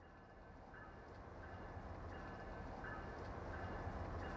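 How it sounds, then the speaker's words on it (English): Norfolk Southern freight train 14M crossing a bridge on the Lake Erie District, heard from a distance as a faint, steady rumble that slowly grows, with evenly spaced wheel clicks on the rail joints. "Norfolk Southern Train 14M crosses on the Lake Erie District."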